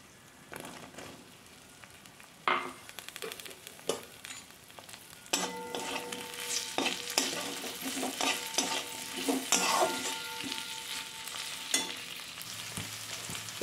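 Peas and makhana for a shahi sabzi are stirred in a hot pan, with a steady sizzle and repeated scraping strokes that grow louder partway through. No one speaks.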